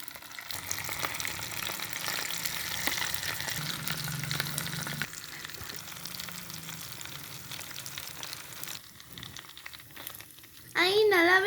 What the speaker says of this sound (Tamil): நல்லாவே பொரியுது புது ஸ்டவ்வில்